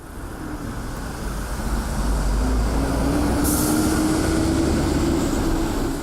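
A Seoul Subway Line 9 train rumbles steadily through the tunnel, a loud continuous roar with a rising whine, with no voices.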